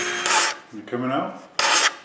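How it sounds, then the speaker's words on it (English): A round hand scraper rasps across wooden coat rack posts to clear burn marks, two short scraping strokes bracketing a brief murmured voice in between, close and fairly loud. "After that, Alain removes the burn marks with a round scraper."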